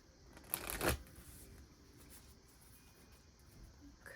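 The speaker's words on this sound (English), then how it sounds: "I feel like we're gonna pull some more cards." Tarot cards riffle-shuffled once in a quick burst near the start, close and crisp, followed by quiet room tone.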